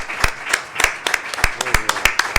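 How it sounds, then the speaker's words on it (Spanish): Clapping after a conservatory octet performance: distinct, sharp claps from a small audience, spaced unevenly and loud, mixed with scattered lighter hand strikes in a room. "aplauso muy largo"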